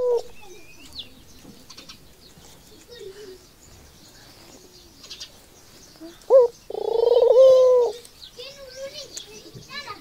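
A dove at a village mini zoo coos in a low, soft burst, with a longer, louder coo near the end, close by, while bird chirps and occasional talk sit in the background.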